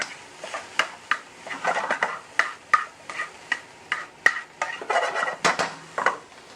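Chanterelle mushrooms tipped back into a frying pan and stirred, a run of sharp utensil scrapes and clacks against the pan with a faint sizzle underneath, close and fairly steady.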